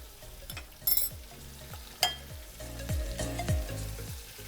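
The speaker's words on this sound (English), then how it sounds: "After we've sauteed our vegetables" Vegetables sauté in a pot with herbs, salt and pepper, giving a steady close sizzle broken by occasional clanks and stirring scrapes, with no talk.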